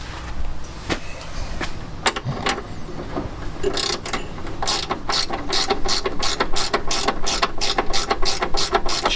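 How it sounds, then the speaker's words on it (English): Ratchet spanner tightening 10mm bolts on a classic Fiat 500 engine, a few separate clicks at first, then a fast, steady run of loud close ratcheting clicks with no talking. "just using a ratchet spanner for this"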